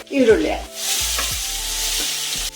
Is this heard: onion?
yes